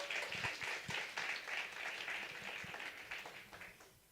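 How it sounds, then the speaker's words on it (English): An audience at a women-in-tech meetup applauds steadily, a dense patter of many hands clapping at moderate volume that slowly tapers off toward the end. "So can we all give a very big round of applause to Toli?"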